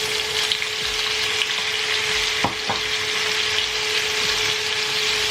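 Sausages fry in a pan with a loud, continuous sizzle, steady throughout, broken by a couple of brief utensil knocks near the middle.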